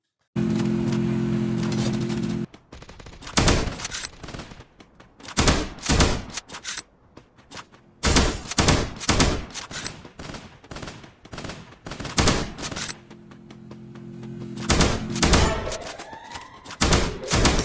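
Gunfight in the mobile battle royale game Free Fire: loud bursts of rapid automatic gunfire and single shots in clusters, separated by brief pauses, with a steady vehicle engine hum underneath at times.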